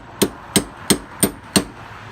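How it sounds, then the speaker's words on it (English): A hammer drives a socket down onto battery cable terminal ends to seat them flush on an LSX-swapped GMC Canyon, giving five sharp metallic knocks at a steady, slightly uneven rhythm, close and clear with no talk. "That's the way I knock them down to get them flush. Just use a socket and a hammer."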